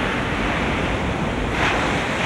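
Rough sea waves roll and wash in a steady, dense roar mixed with wind buffeting the microphone around a rescue scene near a stranded eel-trap fishing boat on a reef, loud and unbroken with no voices.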